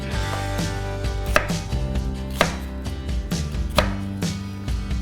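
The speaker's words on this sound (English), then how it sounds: "You don't want to chop it too much because you don't want little tiny chunks of onion." Damascus steel chef's knife chopping onion into chunks, steady rapid knife strikes on a cutting board with a few sharper louder hits, close and clear with no talking.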